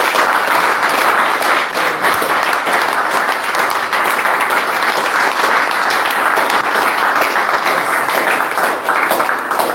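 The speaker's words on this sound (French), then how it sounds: "Applaudissons pour notre Père." A congregation at a French-language prayer service applauds continuously and loudly, a dense wash of clapping that holds steady for about ten seconds.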